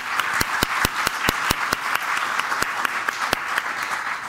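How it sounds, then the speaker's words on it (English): A round of applause for panel speakers at a startup founders event, a quick run of sharp, distinct hand claps over a steady background of lighter clapping from a modest audience. "Give them a round of applause again for coming out and sharing."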